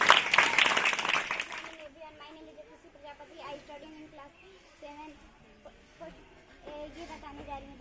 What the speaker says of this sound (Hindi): चलिए ताली बजा दीजिए इनके लिए भी